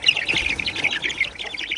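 A rooster held in someone's hands calls out in a rapid run of harsh, raspy squawks and clucks, close and loud, with no talking over it.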